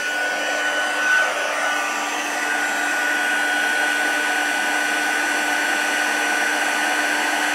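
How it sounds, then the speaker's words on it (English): Craft heat tool blowing hot air to set embossing powder, a steady, even whooshing hum held close and constant for the whole stretch with no talk. "now all I need to do is just use my heat tool just to set that."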